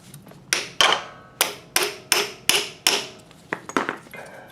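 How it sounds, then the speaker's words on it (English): Sharp metallic hammer strikes seat a front sprocket on a 2001 Kawasaki Ninja 250, about nine close, loud blows in an uneven rhythm with brief ringing decay, a few lighter taps near the end. "so let me tap her in there, give it a good wipe, retainer back in,"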